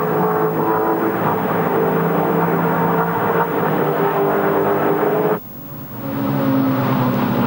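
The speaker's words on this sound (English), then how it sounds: "Last time down Conrod Straight, David Parsons flashes past our 7 camera" Touring race cars at full speed down Conrod Straight at Bathurst in the 1996 Australian Touring Car Championship, a loud sustained engine roar that drops away sharply, then a second car's engine rising in again.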